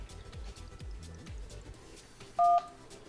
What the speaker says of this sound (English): So now let's go ahead and dial 611 and check the call quality.